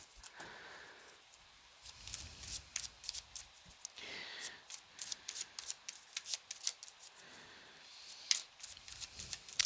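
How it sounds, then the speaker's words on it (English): Tarot cards being riffle shuffled, soft fluttering, papery bursts of rapid clicks that repeat through the stretch, fairly quiet and close, with little else around them. "One more riffle shuffle."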